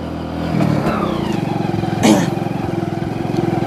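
A motorcycle carrying riders rolls along a level dirt road near Danabari, its engine putting out a steady, close, rhythmic throb, with a brief burst of louder clatter partway through.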